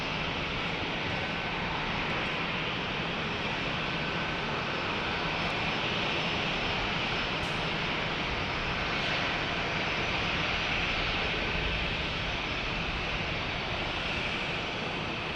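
A fixed-wing airplane departs from an airport in San Diego. Its engine roar comes as a steady, fairly distant broadband rush that lasts throughout, heard alone without voices.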